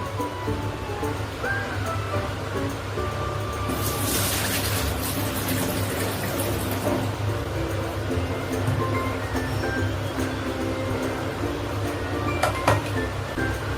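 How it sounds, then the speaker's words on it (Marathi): Soaking water drains from a bowl of swollen soaked rice and lentils for idli batter, a steady close splashing trickle with occasional clinks of the vessel, no talk. "आता आपण यातलं पाणी काढून घेऊया"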